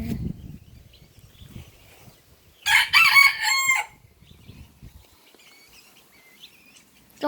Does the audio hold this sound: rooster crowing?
yes